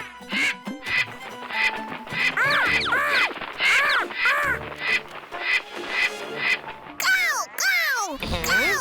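A person imitates crow caws, a run of harsh, rising-and-falling cawing calls repeated rhythmically, loud and close, ending with a few longer drawn-out caws.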